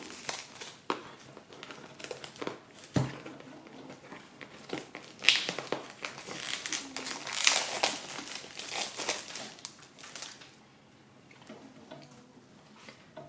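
Crinkling and rustling of plastic wrap being torn off a newly released Oracle de Belline card deck by Gabriel Sanchez, close and busy for about ten seconds with soft handling sounds afterward.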